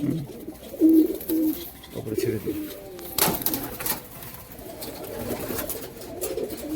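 Pigeons coo softly in the background of a loft while someone talks nearby, with some handling noise and a brief sharp rustle partway through.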